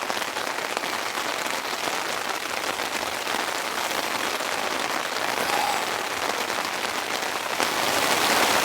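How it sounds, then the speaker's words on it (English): Heavy rain drums steadily on a tent at a campsite, a dense, loud, unbroken patter that swells slightly toward the end, with no voices. "Well, I think this rain has fully set in."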